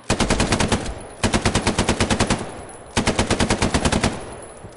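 Machine gun fire from the video game Hell Let Loose comes in three loud, close bursts of rapid evenly spaced shots, each about a second long and separated by short pauses.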